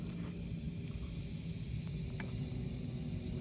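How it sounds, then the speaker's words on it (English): A steady, broad hiss of a vacuum leak from a hose on a 2016 Ford Expedition 3.5L EcoBoost engine, continuous and fairly close, with a few faint clicks and no talking. "A vacuum leak or an air leak"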